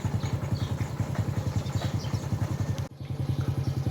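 A farm tractor engine chugs nearby with a fast, even thumping rhythm and mechanical clatter, loud and steady, briefly dipping before resuming.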